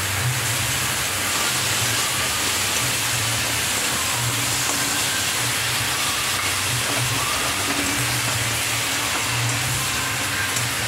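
Ground spice paste hits hot oil with bay leaf and dried chilli, giving a steady, dense sizzle and hiss that carries on evenly throughout with no talking.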